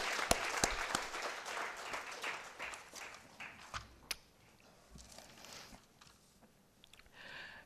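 Applause from the audience at a 75th-anniversary celebration of ITBA, honouring a former president: dense clapping that starts strong, then thins to scattered claps and fades, fairly quiet and distant.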